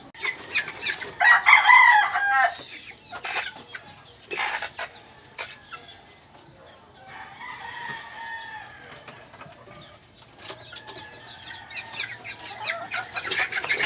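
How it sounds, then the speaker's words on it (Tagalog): Backyard chickens cluck and squawk close by, with a rooster crowing and a burst of wing flapping early on, then scattered softer clucks and calls that rise again toward the end. "papakita ko na yung mga manok natin"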